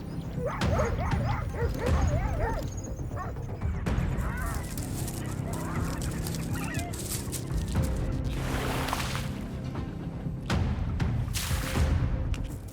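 Wild dog pack yipping while confronting a hyena in the wild: quick high-pitched yips and whimpering calls near the start, then busy scuffling and rustling noise throughout, fairly distant and steady.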